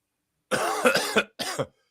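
A burst of close, harsh coughing: two quick coughs, then a short pause and one more, loud against silence.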